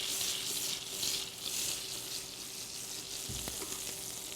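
Chicken pieces browning in a sauté pan give a steady, dense sizzle and crackle that runs unbroken through the whole clip. It is moderately loud and close, with a brief clink of a utensil near the end.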